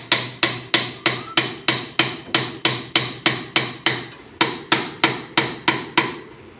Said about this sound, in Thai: เหล็กที่เราตอกลงไปนะครับ